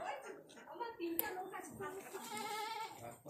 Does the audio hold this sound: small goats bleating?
yes